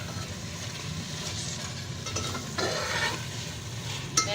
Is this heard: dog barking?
no